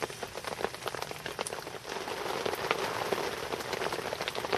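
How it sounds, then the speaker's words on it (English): Heavy rain drums on a fishing bivvy and umbrella beside a specimen carp and eel lake, a dense, continuous patter of close drops with sharper individual taps scattered through it. "the weather might be horrible outside, and I've had to put a brolly up to stop the rain coming into the bivvy"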